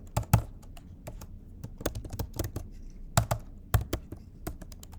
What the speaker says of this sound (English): I can hit the enter key and type out text.